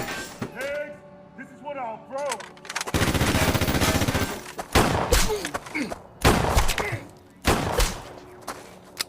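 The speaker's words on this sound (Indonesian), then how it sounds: "Bradley pun berpikir untuk menyamar menjadi warga sipil dan menolong pihak kepolisian dengan menembak Pedro dan Roman" Gunfire from a scene in the action film Brawl in Cell Block 99: loud bursts of shots and sharp cracks with some shattering, broken by brief pauses and mixed with other film sounds.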